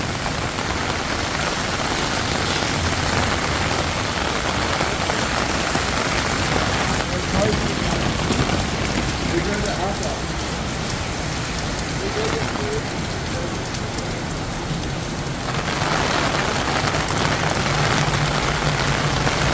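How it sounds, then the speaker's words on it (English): Heavy rain pours down steadily in Bangkok on the first rainy day of the season, a dense, loud, constant hiss with faint voices and traffic underneath. "especially the first day of rain, it starts to flood pretty quickly"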